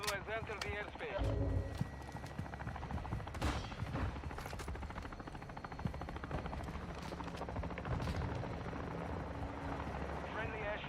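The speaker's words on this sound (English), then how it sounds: "cargo helo has entered the airspace." A cargo helicopter in the Call of Duty video game, its steady rotor chop throbbing under game noise with horse hooves, a whinny and scattered gunfire, while a voice talks over the mix.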